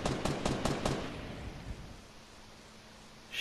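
A rapid burst of about six gunshots fires in Fortnite, then rumbling echoes fade out, with one more sharp sound at the very end.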